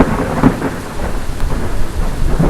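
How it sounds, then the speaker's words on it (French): Heavy rain pours steadily while thunder rumbles low and loud through a brief, dense stretch of thunderstorm. "Vous avez déjà joué sous l'orage?"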